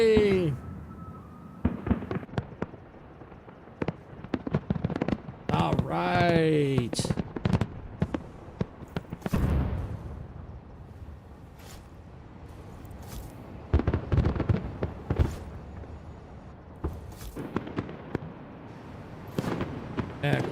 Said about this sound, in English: I'm putting down a few more extra fireworks.